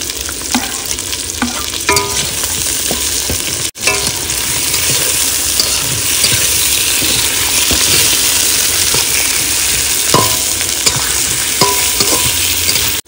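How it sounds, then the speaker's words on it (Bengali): Potatoes with garlic and ginger paste frying in a pan, a steady loud sizzle broken by scraping and stirring clinks of a spatula throughout. "আমার আলু আর মশলা কষাই করা হয়ে গেছে"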